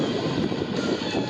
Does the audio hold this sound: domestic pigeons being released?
no